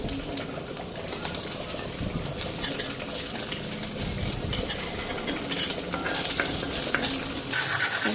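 Fish masala frying in a home kitchen pan, a steady sizzle and crackle running throughout with stirring scrapes and light clinks of a utensil against the pan, fairly loud and close, no voices.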